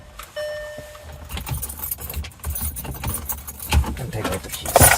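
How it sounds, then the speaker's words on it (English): Car keys for a 2009-2012 Audi jangle and clink near at hand in several quick bursts, metallic rattles over a quiet background with a soft tone at the start. "Take out the keys."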